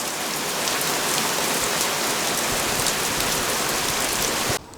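Steady, close rain pours at a DIY oak-frame barn build site during a British August bank holiday, a dense even hiss that cuts off abruptly near the end. No one speaks.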